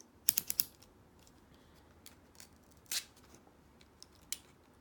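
Tape on a tarot deck box being snipped open with scissors: a quick cluster of sharp, crisp snips and clicks, then a few sparse, quieter ticks and rustles against a faint, quiet room background.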